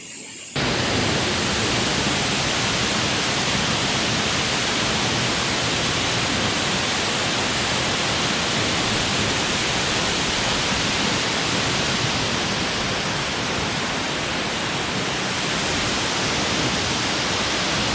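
Waterfall at Bhivtas, reached via Wilson Hill; after a brief quiet start, a dense, steady roar of falling water fills the rest, loud and unbroken with no voices.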